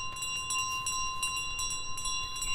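A bell carried by the goose in Untitled Goose Game rings with steady, clear sustained tones that keep sounding evenly through the whole stretch, with no talking over it.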